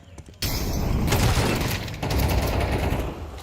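Rapid automatic gunfire during a Counter-Strike match, a dense sustained burst that starts abruptly and runs loud and continuous, with a brief dip midway before resuming, no voices over it.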